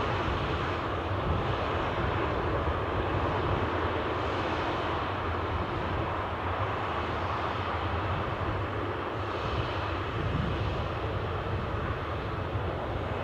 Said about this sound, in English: Let's just watch Air France inching its way out, the Embraer 190 standard